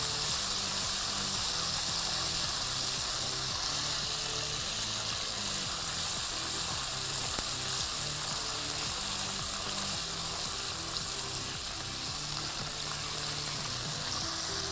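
Garlic-ginger paste and green chillies fry in hot oil with a dense, steady sizzle that holds at an even level throughout, close and unbroken.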